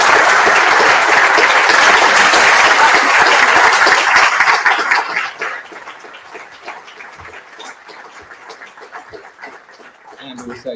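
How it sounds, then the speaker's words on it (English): Loud, dense applause from a large audience at a cardiac arrest training event, sustained for about five seconds before thinning into scattered claps and fading. "just to have a round of applause, preferably standing, for Liz"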